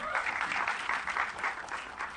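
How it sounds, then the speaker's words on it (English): An audience at a film trailer launch event for Mary Kom with Priyanka Chopra claps steadily, in a fairly soft, even wash of applause that lasts a couple of seconds without any talking. "So having got these claps"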